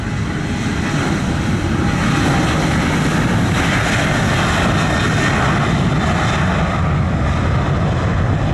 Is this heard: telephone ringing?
no